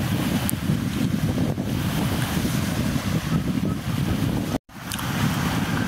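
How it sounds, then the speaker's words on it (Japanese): Wind and small waves on the shore of Lake Biwa at dawn make a steady, loud rumble with heavy wind buffeting on the microphone and a brief dropout near the end. "若干風はあって波もありますけど、昨日よりはマシかな"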